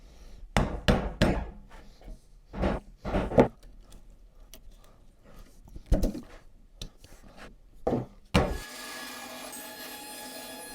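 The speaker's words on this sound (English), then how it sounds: "draw on a gradual taper that I will then chisel out" A chisel works a gradual wooden taper on a homemade table saw dado throat plate, giving a series of irregular sharp taps and scraping strikes with quiet gaps, followed by a steady hiss at the end.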